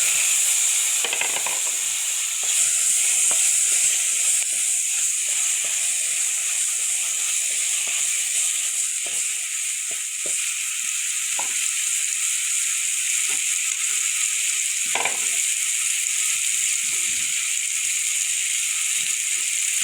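Raw mango pieces go into hot oil seasoned with nigella seeds for a sour-spicy rohu fish curry, giving a loud steady hiss and sizzle with a few sharp spits and pops.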